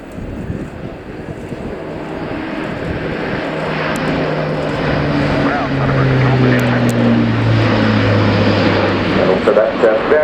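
An Airbus A400M turboprop flies a steep display turn at the RIAT air show at Fairford, its loud propeller drone rising and shifting in pitch as it passes, with a commentator talking over it.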